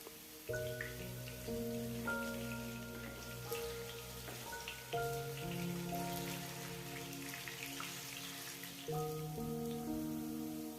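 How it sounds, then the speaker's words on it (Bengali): Hot oil sizzles steadily and softly around frying raw potato pieces, like light rain, while gentle background music plays underneath. "তেল গরম হলে তাতে আমরা কেটে রাখা আলুগুলোকে ভেজে নেব"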